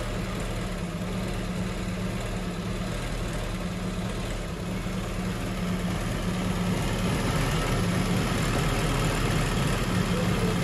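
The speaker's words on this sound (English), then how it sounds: "He was worried about the rough idling of the engine." A car engine idles roughly at a roadside repair in Thailand, a steady low rumble with an uneven, slightly knocking edge, running continuously and fairly loud throughout with no voices.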